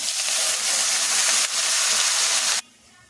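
A steady loud sizzling hiss of spinach frying in a hot pan, continuous for a few seconds and then dropping away abruptly.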